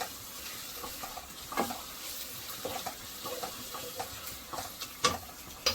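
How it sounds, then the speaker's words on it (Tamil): Ginger garlic paste for mutton biryani being sautéed in a pan gives a soft, steady sizzle with scattered scraping stir strokes, faint and without voices. "இப்போ இதையும் நல்லா போட்டு வதக்கி விடுங்க"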